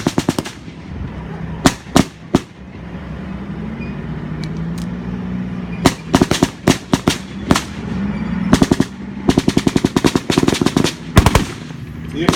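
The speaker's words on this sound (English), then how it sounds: "That's an M60," An M60 machine gun fires in short bursts and single shots at a war reenactment near an airport, loud and close, the reports clustered in rapid volleys over a steady engine or crowd rumble.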